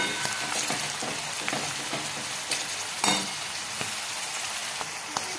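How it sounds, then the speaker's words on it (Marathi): Spices with pav bhaji masala and turmeric sautéing in hot oil, giving a continuous close sizzle broken by frequent scraping stir strokes and a few sharper clacks of the spoon against the pan. "आता घेऊयात सर्व मसाले टाकून छान घेऊयात तेलामध्ये परतून"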